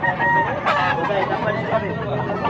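A two-year-old black leg gamefowl rooster clucks and calls at close range at a market in Tabunok, Cebu, with someone talking over its short, harmonic vocal bursts.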